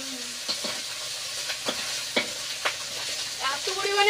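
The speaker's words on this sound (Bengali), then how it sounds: "মৌটি মাছগুলো ভাজা করলে হয়ে যাবে" Small mourala fish frying in hot oil, a continuous close sizzle broken by sharp spatters and scraping stirs, getting louder toward the end.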